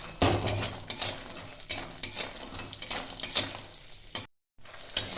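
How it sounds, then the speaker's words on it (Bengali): Black gram lentil dumplings (bori) fry in oil with a busy crackling sizzle, repeated utensil scrapes and clinks against the pan, and a brief silent gap near the end. "এখানে আমি বিউলি ডালের বড়ি নিয়েছি, আমি এগুলো ভেজে নেব"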